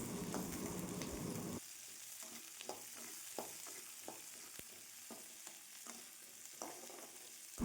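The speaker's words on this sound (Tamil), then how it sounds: "அது கூடயே பத்து குருமிளகும் வந்து ஆட் பண்ணிக்கலாம் எல்லாத்தையும் நல்லா வணக்கலாம்" Onions sautéing with cumin and black peppercorns in a pan for fish curry, a steady close sizzle with repeated light spatula scrapes and taps.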